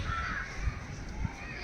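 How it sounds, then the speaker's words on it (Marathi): Crows caw faintly in the background amid outdoor ambience, with two low thumps and a soft overall hiss. "पक्ष्यांचा आवाज येतोय"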